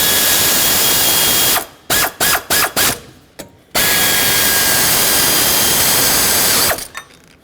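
A hand ratchet snugs the lower alternator bolts on a 2009-2010 Ford F-150 with the 5.4L V8: a long close clicking run, then several short clicking bursts with gaps, then another sustained run.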